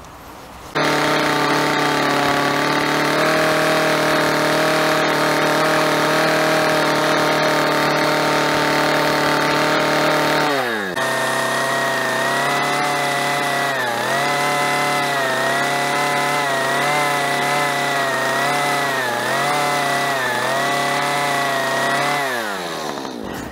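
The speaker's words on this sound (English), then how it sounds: "I can take my chainsaw and brush this down just a little bit." A chainsaw runs steadily for over twenty seconds, loud and close, while it brushes down a log for a cabin build in the Ozarks. The engine holds a constant drone, then shifts pitch and wavers slightly as the chain bites into the wood.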